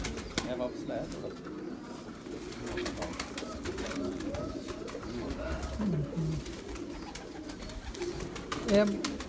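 Kamgar pigeons on a rooftop loft coo steadily and close by, with repeated soft rolling calls and a brief flutter of wings, while people talk over them.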